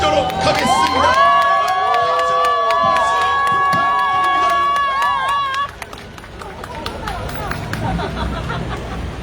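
An outdoor campaign rally crowd cheers and claps loudly while a voice speaks over amplified sound, after which the cheering settles into a steady murmur of crowd noise.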